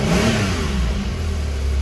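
Recent Porsche sports car with a PDK gearbox and sport exhaust system revving at a dealership, a loud, close engine roar that swells and dips briefly.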